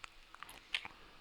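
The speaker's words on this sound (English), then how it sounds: "I need to stop chewing my gum so loud" Gum being chewed near the mic, a few soft, wet clicks and smacks scattered irregularly over a quiet background, with one slightly louder snap.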